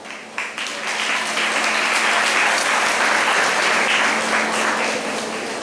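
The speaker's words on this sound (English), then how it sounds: "These are the toppers, so the round of applause should not stop." School felicitation audience applauding student toppers, clapping that swells quickly after a brief sharp onset, stays dense and loud, then begins to ease slightly near the end.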